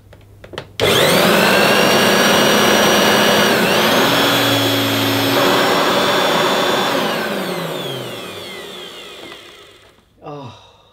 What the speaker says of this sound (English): That motor sounds fine. That really sounds nice. Even with the motor hood off.